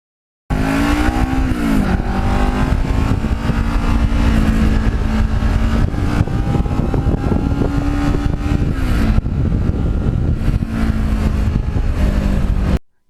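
A motorcycle with a brand new rear tire and new Regina drive chain rides on a fall day, its engine droning loud and close with steady wind rush, revving up and dropping back through gear changes.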